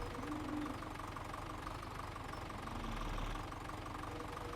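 A tractor engine idles at low RPM in Farming Simulator 17, inside a barn on a farm, giving a steady, continuous low rumble with a faint knocking pulse that runs unbroken at moderate level.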